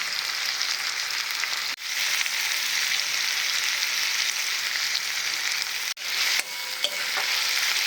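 Chopped tomatoes and green garlic frying in a pan give a loud, steady sizzle, broken twice by brief dips and clanks as they are stirred, with no voices.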